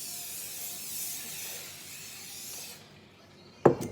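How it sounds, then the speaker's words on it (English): Canola oil cooking spray hisses onto a baking tray in a short, close burst near the end, after a quiet stretch of steady high background noise. "I'm just going to use canola spray."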